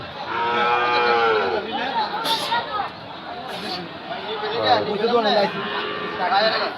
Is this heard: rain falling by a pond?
no